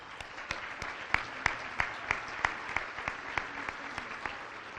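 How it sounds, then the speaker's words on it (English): Applause at a gala benefit for pediatric brain cancer, soft and fairly distant, with a few individual sharp claps standing out in a loose rhythm over a steady background patter for nearly five seconds. "That definitely deserves a round of applause"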